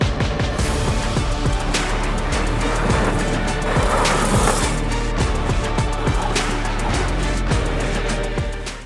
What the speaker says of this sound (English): rather drift a front wheel drive car or SUV on gravel